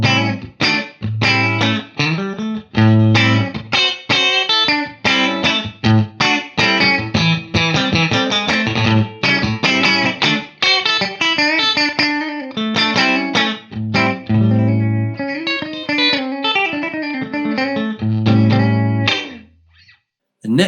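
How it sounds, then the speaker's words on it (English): Electric guitar through a Line 6 DL4 MkII tile reverb with pre-delay, picked notes and short phrases followed by a delayed wash of reverb tail, fairly loud, with a quiet stretch near the end. "Next up, we've got a tile reverb where the tweak control handles the pre-delay."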